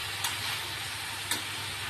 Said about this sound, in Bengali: এবার আমি এটা এরকম করে উল্টিয়ে দেবো যাতে পেঁয়াজটা কড়াই গিয়ে ভালো মতন কুক হয়ে যায়